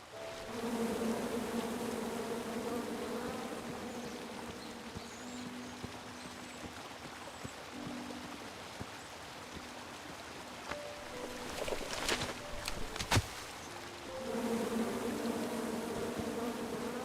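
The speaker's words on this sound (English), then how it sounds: "Come at me, bees!" Bees buzz in the King's Quest video game, a steady swarming drone with wavering tones that lasts throughout, moderately loud, joined near the end by a few sharp clicks and a brief louder burst.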